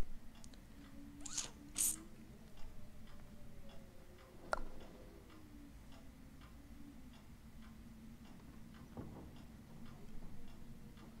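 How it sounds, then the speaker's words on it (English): Quiet, steady ticking of a clock in Resident Evil 7, an even rhythm under faint creaks and a few soft clicks and rustles. "Tick tock, tick tock."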